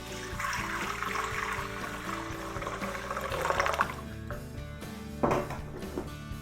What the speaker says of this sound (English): And then I'm just going to add in my lukewarm water.